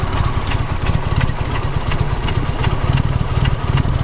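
Chevy S10 with a 4.3 engine running rough, sputtering and blowing black soot, its steady loud idle pulsing with a fast uneven low throb throughout, no voices.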